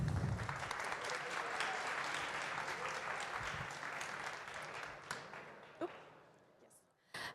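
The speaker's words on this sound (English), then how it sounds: "Please give them a round of applause." Audience applause for a student team taking the stage at a live science competition, steady and moderately distant, thinning out toward the end with a few last claps.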